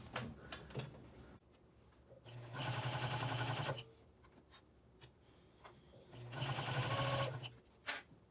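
A sewing machine stitches the edge of a fabric project bag in two bursts of rapid, even mechanical whirring, with quieter handling clicks and pauses between runs.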